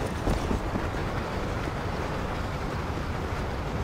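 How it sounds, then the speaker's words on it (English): A train passing in the video game Red Dead Redemption gives a steady, dense rumble with broadband rolling noise that holds at constant loudness throughout, with no voices over it. "I'm just waiting for the train to pass."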